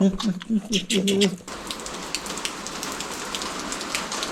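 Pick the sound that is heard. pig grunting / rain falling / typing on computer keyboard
rain falling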